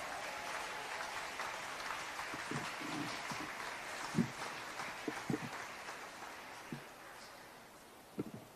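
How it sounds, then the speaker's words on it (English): An audience at a keynote event for micro, small and medium-sized enterprises applauds its sponsors. The clapping is steady and fairly faint, like distant rain, with a few sharper claps standing out. "could we kindly give our sponsors a round of applause"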